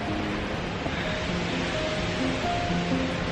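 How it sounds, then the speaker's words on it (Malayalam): The Aanachadikuthu waterfall near Thodupuzha roars nearby as a dense, constant wash of rushing water, loud and unbroken, with no voices. "വെള്ളച്ചാട്ടത്തിന് സൗണ്ടൊക്കെ കേൾക്കാം."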